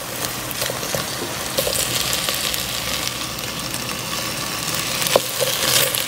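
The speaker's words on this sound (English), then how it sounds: "I'm going to add the other vegetables. Then fry it up for a bit." Vegetables fry in a pan for Japanese curry, giving a steady, close sizzle with faint stirring scrapes and no talking.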